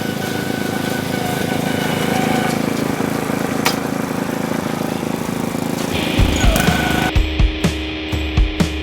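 A gas engine-powered lawn aerator runs with a steady mid-pitched drone for most of the stretch, then shifts near the end into uneven thumping and rattling bursts as it works the turf.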